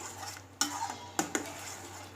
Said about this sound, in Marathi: ही टमाटो प्युरी आपल्याला यामध्ये तेलामध्ये छान दोन ते तीन मिनिट चांगली परतून घ्यायची आहे